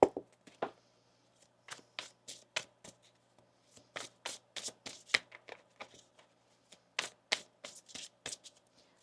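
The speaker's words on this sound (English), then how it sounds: "One more shuffle here." Tarot cards shuffled by hand at close range, sounding as a string of crisp, papery riffling bursts in irregular clusters with short pauses between them, and no voices.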